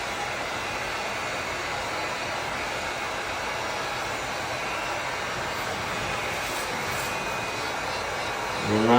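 A steady, loud blowing roar, like a heat gun, as a scrap piece of vinyl plank nosing is warmed so it can be bent, holding constant throughout with a small rise at the very end.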